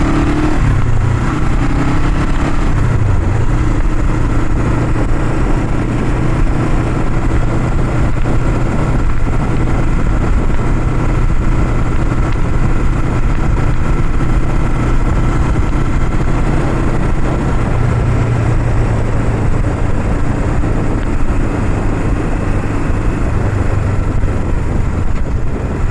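A 1975 Honda CL360 Scrambler motorcycle with no oil or fuel leaks idles steadily, its twin-cylinder engine putting out a loud, constant throbbing hum with slight rises in revs, close up and alone for the whole stretch.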